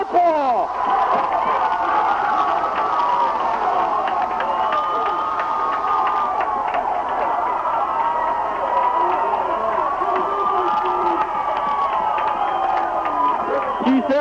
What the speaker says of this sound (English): These fans are on their feet and cheering, yelling